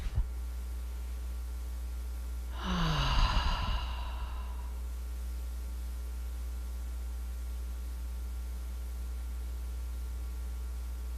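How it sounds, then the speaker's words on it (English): A single slow exhale through the mouth, a soft airy sigh lasting about a second, close and quiet over a steady low electrical hum, with no talking. "Exhale through the mouth."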